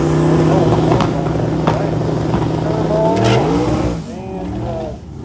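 Loud engine roar of a 1946 pickup drag racing as it launches and spins its tires, a sustained revving drone that fades toward the end as the truck pulls away.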